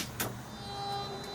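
An electric slide-out motor on a wrecked Jayco Precept RV whirs faintly and steadily for about a second, with a low mechanical hum and a soft click near the start.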